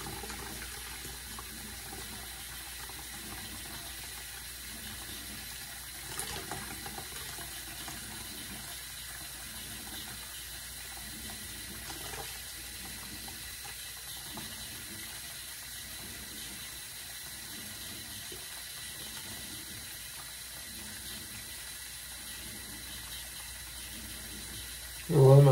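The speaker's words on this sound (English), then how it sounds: "I'll let my sink fill up with some water." Water runs from a tap into a sink as it fills, a steady, even gush that continues unbroken for the whole stretch at moderate closeness, with no talking over it.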